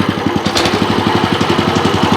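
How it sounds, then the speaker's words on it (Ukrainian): A WEIMA DELUXE WM900M-3 walk-behind tractor engine runs steadily up close, with a loud, even throbbing beat and mechanical rattle throughout and no talk. "Бачите, як двигун сам підхоплює."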